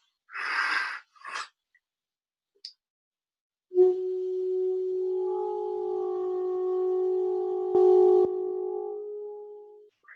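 A saxophone plays a dyad multiphonic, two tones held together in the instrument's middle register, after a few short breathy puffs. The steady, layered tone sustains for about six seconds, then fades.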